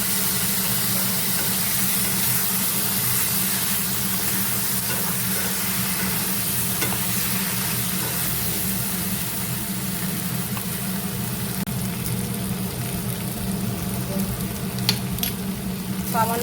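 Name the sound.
vegetables frying in pan with spice paste added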